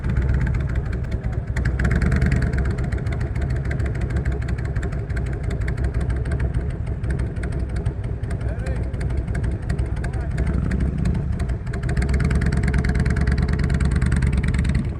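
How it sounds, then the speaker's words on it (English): A big motorcycle idles and then pulls away while leaving a trail through tall grass and ruts on a fall ride in Ohio, a steady mid-pitched engine rumble that holds throughout with a slight rise near the end, with people talking over it. "He's bringing that big bike out of here."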